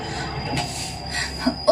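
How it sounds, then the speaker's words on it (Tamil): High metallic squeal of metro train wheels on rails echoing through a metro station, with steady rumbling underneath and no talking. "Metro station."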